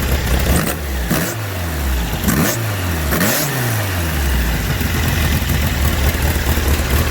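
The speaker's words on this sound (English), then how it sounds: "when I give it some acceleration, you'll notice that there's a belt squeal" A car engine idles and revs up several times in bursts, each rise in pitch carrying a faint high squeal from the serpentine belt, loud and close throughout.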